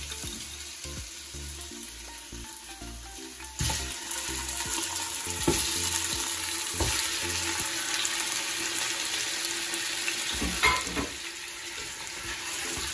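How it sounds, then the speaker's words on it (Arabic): Meat sizzles and fries steadily in a pan for douida, a vermicelli dish, with a loud, continuous crackle and occasional stirring scrapes, close up and without talk. "دركا نقليو اللحم تاعنا."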